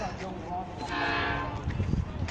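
A V/Line N class diesel locomotive sounds its horn at a Victorian station platform, one steady mid-distance blast swelling in the middle amid rail rumble, with a voice talking nearby.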